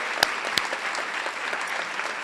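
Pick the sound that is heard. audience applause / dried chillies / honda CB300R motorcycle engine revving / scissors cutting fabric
audience applause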